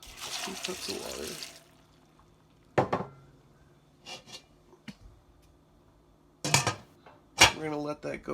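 Two cups of water are poured into a pot of apples for strawberry applesauce, making a steady splashing stream for about a second and a half, followed by scattered clinks of pot and utensils and bursts of nearby talking.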